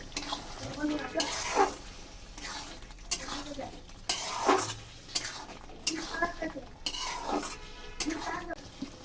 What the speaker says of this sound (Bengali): এখন ভেজে রাখা মাংসটা দিয়ে দেবো ভালো করে কষাতে থাকবো